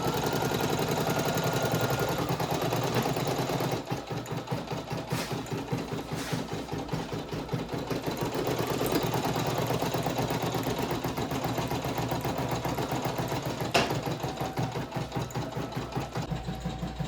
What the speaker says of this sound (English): Okay guys, while the embroidery is going, I am going to just brush in the stones.